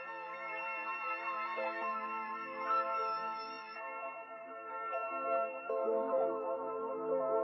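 A reversed accent sample pitched down twelve semitones in a music production session plays as a sustained, harmonically rich tone with echo and reverb effects, shifting gently over several seconds, fairly quiet, without talking.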